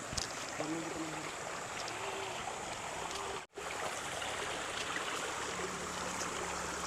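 Water running steadily from hoses outdoors on a farm plot, a continuous trickling, splashing flow close by with a brief drop-out midway and no talk over it.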